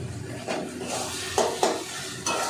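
Bata fish frying with spices and red chili powder in a pan, with a steady close sizzle broken by several scraping stirring strokes of a spatula and no talking.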